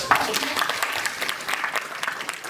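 A classroom of students applauding a classmate, a brief spell of dense clapping from many hands with voices mixed in.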